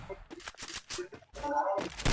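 Rapid bursts of gunfire in the mobile battle royale game Free Fire, sharp shots in quick uneven clusters with brief gaps, loud and close.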